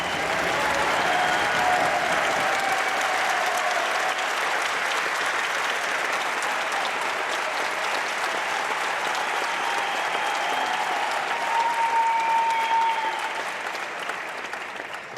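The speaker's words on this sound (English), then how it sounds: "Obviously, a cheer from the crowd." Crowd at the 2022 Vegas Shoot archery main event shootdown breaks into sustained, dense applause and cheering that holds steady for about fifteen seconds before easing slightly at the end.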